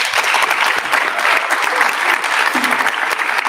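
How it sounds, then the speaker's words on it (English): Conference audience applauding panelists, a steady burst of clapping from many hands at close range, sustained evenly for several seconds with no speech over it. "Let's give them a round of applause."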